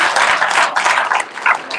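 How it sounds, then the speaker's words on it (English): A short, loud burst of audience clapping at a startup founders' pitch event in Houston, brief and dense, fading slightly toward the end. "Let's give a round of applause for Alan"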